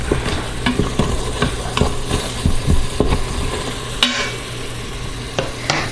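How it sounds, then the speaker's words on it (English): A utensil scrapes the bottom of an Instant Pot insert on saute mode while making venison stew, with repeated rhythmic scraping strokes and clanks over a low background sizzle. "Give your pan a little bit of a scrape. Clean up the bottom a little bit."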